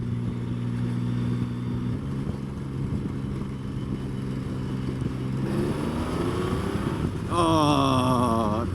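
A Triumph Rocket 3 motorcycle, rated around 140 brake horsepower, accelerates with a steady engine drone that climbs in pitch as revs build, rising sharply near the end and held close and loud throughout.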